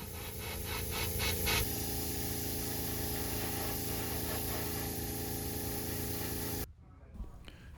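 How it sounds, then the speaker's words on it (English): An airbrush sprays opaque red paint onto a tiny fishing lure, a steady close hiss with a few pulsing bursts at the start, then cuts off abruptly into near silence. "I loaded opaque red into the airbrush so I can darken the top of the bait."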